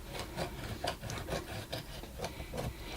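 Scissors trim paper along the edge of a book in a quiet, steady run of rhythmic rasping cuts, repeating roughly every half second with no talking.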